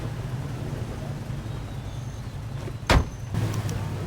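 A cab's engine hums in LA Noire, a low steady motor drone with a sharp door-like thud in the middle, then the rumble continuing slightly louder.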